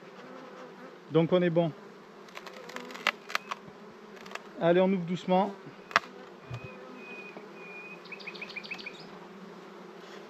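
Honeybees buzz softly and steadily inside an opened hive being raised for queen rearing in mild weather, a low continuous hum under two short bursts of nearby talk.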